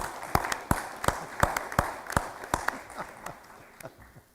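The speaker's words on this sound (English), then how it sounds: "applause for the highway department" Scattered clapping from a small crowd at a county board meeting, sharp uneven claps rising and then thinning out over a few seconds, with faint murmuring in the background.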